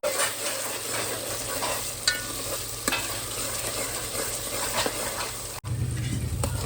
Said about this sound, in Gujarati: ત્યાર પછી નાખી દઉં ડાયરેક્ટ ડુંગળી. ડુંગળી હવે પાકવા દઈએ બરાબર.